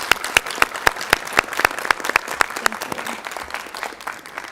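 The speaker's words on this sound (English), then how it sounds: "So if we could just give them a little bit of round of applause." A round of applause at a school board meeting, a modest group clapping in a steady run of sharp, fairly close claps that thin out toward the end.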